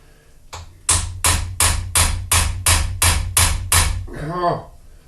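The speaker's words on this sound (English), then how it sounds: "this carbide bit will break when I now hammer it" A run of about nine loud, evenly spaced hammer blows on a silver-brazed carbide chamfering bit, sharp and close, followed by a brief voice at the end.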